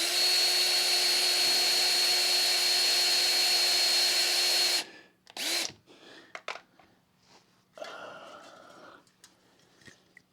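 A power drill boring into a prop saver whines at a steady high pitch for nearly five seconds, then stops, followed by brief bursts of spin-up, clicks and handling sounds.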